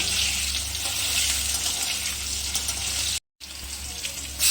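Potatoes fry in a pan with a loud, hissing sizzle that runs steadily, cutting out for a moment before resuming.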